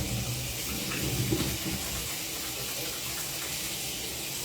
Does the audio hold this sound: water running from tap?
yes